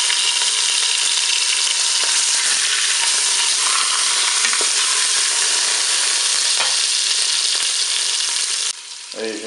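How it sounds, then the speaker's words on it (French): Pork roast browning in a Cookeo multicooker gives a loud, steady hiss of sizzling fat close up, cutting off abruptly near the end. "je vais faire dorer mon rôti sur toutes ses faces"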